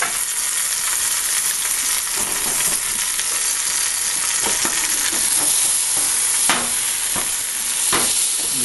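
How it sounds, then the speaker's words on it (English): Pot roast meat frying in hot oil gives off a loud, constant sizzle and crackle, with occasional sharper pops and spatters standing out over the dense hiss. "the oil is cooking the meat"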